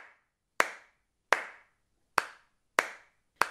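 Five sharp hand claps ring out one at a time at a slow, even pace, each crisp and close, with silence between them and no voices.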